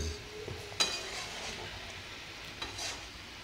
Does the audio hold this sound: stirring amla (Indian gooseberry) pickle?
yes